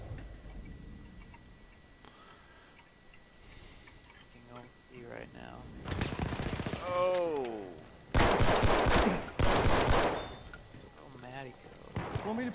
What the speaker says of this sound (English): I just need to run with the freaking machine gun